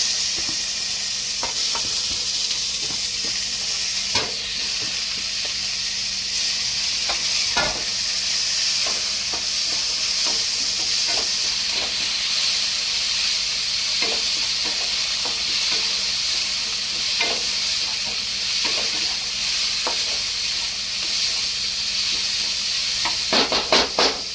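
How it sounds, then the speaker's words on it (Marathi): Onion and tomato sauté in a pan for a home-made chicken khima vada pav masala, a steady, close sizzle running throughout with scattered sharp stirring scrapes and clicks and no voices. "आपलं एक कांदा टोमॅटो हा व्यवस्थित परतून झालेला आहे"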